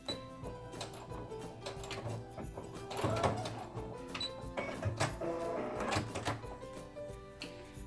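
A sewing machine runs in short bursts, stitching along the bottom edge of a fabric face mask, with mechanical whirring and clacks close by and no talking.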